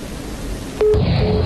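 Telephone line tone after a call is hung up, a brief steady beep sounding twice through a hissy, noisy handset line, with no talk.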